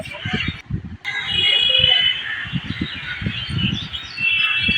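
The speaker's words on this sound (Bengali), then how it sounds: "চারদিকে পাখির আওয়াজ খেয়াল করে দেখবেন কি সুন্দর পাখির কিচিমিচি আওয়াজ" Birds chirp and twitter around a pond at an outdoor park, light continuous calls over a background of distant traffic and voices, with a brief faint honk.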